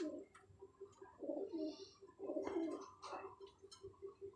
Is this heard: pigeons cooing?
yes